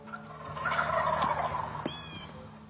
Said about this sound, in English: You can hear the hens calling and the toms gobbling.